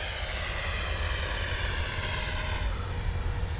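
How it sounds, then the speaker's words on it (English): A Freewing F-16 70mm electric ducted-fan RC jet roars past with its gear up, a loud steady whine with a falling pitch as it moves away, no talking. "Love that KM model afterburner in there."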